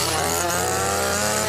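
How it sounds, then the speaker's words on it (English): A chainsaw runs at full throttle as part of a Halloween yard scare with a costumed clown, a loud, close, unbroken engine roar with a raspy buzz and no voices. "the crazy clown running around with the chainsaw"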